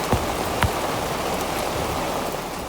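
Heavy rain pours down steadily in port, a dense continuous hiss of drops with a couple of sharper nearby splashes.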